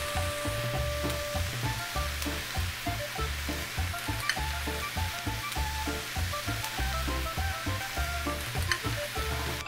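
Chicken fried rice with soy sauce and sesame oil sizzles and crackles in a pan as it is stirred, a continuous close frying hiss with rhythmic scraping pulses.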